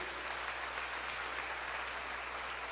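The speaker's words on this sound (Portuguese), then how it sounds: "Você pode aplaudir ao Senhor se você crê." Church congregation applauding during a sermon, a steady, fairly faint wash of many hands clapping together over a low, constant hum.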